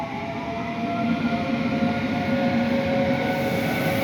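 Train shunting at Tarnów Główny railway station in Poland, a steady low rumble of rolling stock with a faint sustained tonal hum, continuous and moderately close with no voices.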